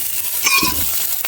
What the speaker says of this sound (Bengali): একটু ভালো করে নেড়ে চেড়ে কষিয়ে নেবো।